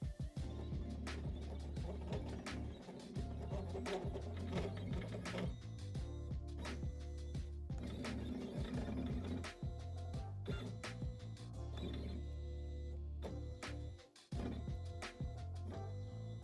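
An embossing machine works steadily on a sheet of vellum, a continuous dense mechanical clatter and whir of gears and ratcheting motion with rapid irregular clicks, close and loud, pausing briefly near the end before resuming.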